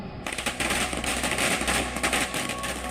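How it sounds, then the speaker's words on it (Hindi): Rapid strings of firecrackers crackle and pop continuously, a dense, loud barrage of small bangs with no pauses. "पूरे देश में पटाखों की गूंज में जीत की खुशी गूंज उठी"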